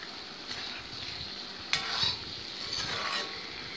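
Potatoes and already-fried eggs being stirred in a pan of hot oil for egg curry, a continuous sizzle with scraping stirs and a few louder spatula strokes, no voices.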